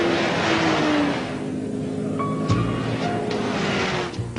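A Holden Commodore HSV GTS with a 410 bhp LS1 V8, rear-wheel drive and a six-speed gearbox, driving hard, its engine roaring loudly and steadily as it pulls through the gears.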